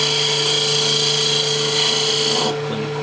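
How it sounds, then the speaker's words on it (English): A skew chisel cuts end grain on a wood lathe: a steady, loud machine whine with a dry rasping scrape that runs continuously, then cuts off sharply near the end, leaving a quieter hum. "That's where I'm going to use my skew."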